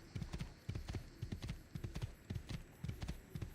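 Horse galloping in Assassin's Creed 2, a quick, regular clip-clop of hooves repeating evenly throughout at moderate distance, with no talk over it.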